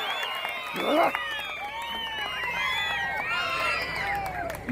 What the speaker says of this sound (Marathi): टाळ्या करा टाळ्या सगळ्यांनी सिकंदरसाठी टाळ्या